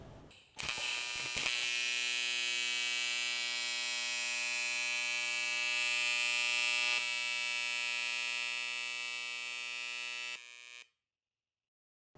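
An AC TIG welding arc run at different AC balance settings gives a loud, steady electric buzz with a rich harmonic hum. It holds for about ten seconds with a slight shift partway through, then cuts off into silence.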